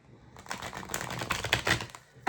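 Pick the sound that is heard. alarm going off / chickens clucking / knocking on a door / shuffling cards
shuffling cards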